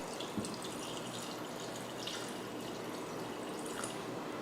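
Water is poured into a cooking pot for a rice dish, a steady broadband splashing hiss, a continuous pour lasting several seconds at moderate volume with no talking.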